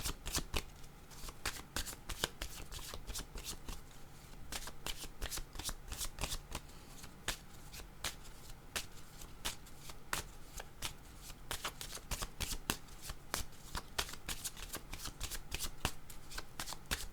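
A deck of cards being shuffled over and over, quiet crisp riffles and flicks repeating steadily without a break, close and soft.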